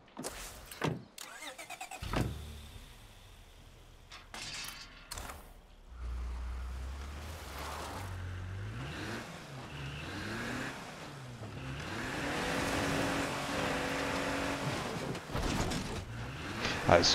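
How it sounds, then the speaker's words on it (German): A car engine drives and revs in the video game State of Decay 2, rising and falling in pitch with creaks and mechanical clunks, loud and close, with a few sharp knocks early on. "Das Coole mit dem Wagen ist ja, man kann ganz schön heizen."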